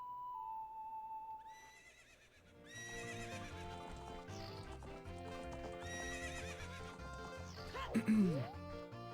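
Horse sounds from the video game The Legend of Zelda: Ocarina of Time: steady clip-clop hoofbeats under game music, then a loud, close whinny rising and falling near the end.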